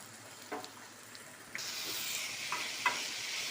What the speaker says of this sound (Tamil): தக்காளி நல்லா வதங்கிடும். வதங்கும்போது கொஞ்சோண்டு உப்பு போட்டுட்டோம்னா சீக்கிரமாக வதங்கிடும்.